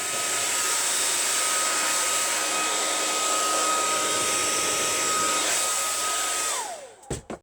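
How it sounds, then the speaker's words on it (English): A hairdryer blows on a damp plastic or card model building, a loud, steady whirring roar that runs evenly for about seven seconds before switching off and winding down with a couple of faint clicks. "you're using the hairdryer"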